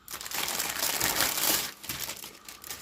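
Stiff, tough plastic foil wrapping on a MiniArt 1:72 StuG III Ausf. G model kit box being roughly torn open, giving close, loud continuous crinkling and crushing for about three seconds with no voices.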